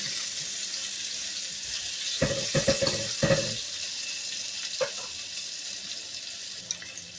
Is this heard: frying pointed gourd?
yes